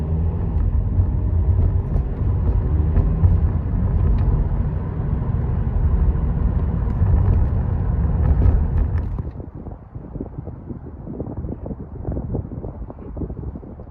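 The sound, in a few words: car driving, heard from inside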